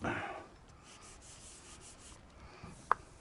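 Clear coat varnish being sanded on red candy paint of a Peugeot 406, heard as a soft, steady close-up rubbing rasp with a sharp tap near the end.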